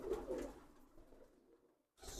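Pigeons in a breeding loft give a couple of soft coos at the start. The sound is quiet and close, then fades into near silence before a burst of noise.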